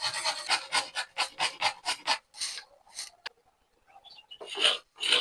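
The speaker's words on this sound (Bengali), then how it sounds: "এবার মূলোগুলোকে আমি ঘষে নিই।" Radishes are rubbed by hand against a grater in a kitchen for a Bengali mulo paturi. A quick run of rhythmic rasping strokes is followed by a few slower, scattered scrapes, close and moderately loud.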